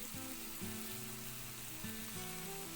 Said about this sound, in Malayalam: എല്ലാം കൂടി നമുക്കൊന്ന് നന്നായിട്ട് വഴറ്റിയെടുക്കാം.